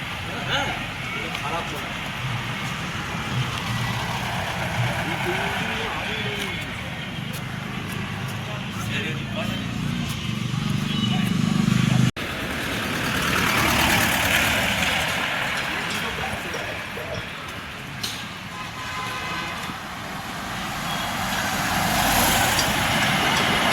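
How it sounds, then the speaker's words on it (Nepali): A diesel locomotive engine of the Darjeeling Himalayan Railway toy train idles with a steady low rumble nearby at a railway station while people talk over it. "टोय ट्रेनको अहिले डिजल इन्जिन पनि छ यहाँ"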